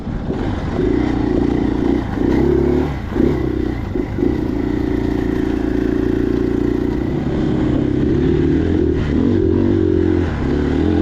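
Loud, close engine drone from a 2023 KTM 500 EXC-F four-stroke dirt bike running an aftermarket ECU and a Graves exhaust while it is ridden, throttle rising and falling with brief dips and clattery chassis noise throughout.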